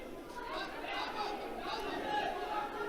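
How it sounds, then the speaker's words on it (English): A crowd in an arena at a judo championship for cadets, giving a steady, continuous murmur of chatter and voices heard from a distance, without distinct cheers. "So you can hear the crowd now."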